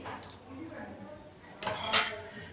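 A spoon stirs kadhi in a pot over low heat, giving soft scraping with a brighter metallic clink near the end of the short, quiet stretch.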